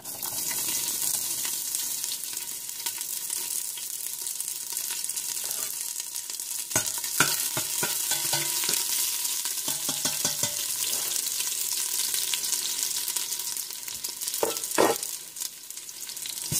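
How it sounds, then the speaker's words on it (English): Garlic sautés in a pan with a steady bright sizzle that lasts throughout, broken midway and near the end by clusters of sharp clicks and stirring knocks. Sustained and moderately close. "now we're going to saute our ingredients. We're going to start with the garlic"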